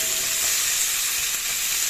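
Chicken curry frying with spices in a pan gives a steady, close, dense sizzle that holds evenly throughout without any talk.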